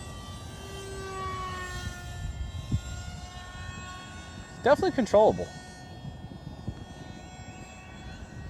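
A Top RC Swift v2 glider with a 64mm electric ducted fan passes overhead, its steady whine holding throughout, while someone speaks briefly in the middle.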